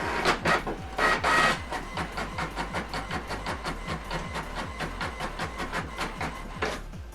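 A printer feeds and prints double-sided black-and-white pages sent from a laptop, making a steady rapid train of mechanical clicks and clacks with a few louder whirring pulses at the start, close and alone without speech.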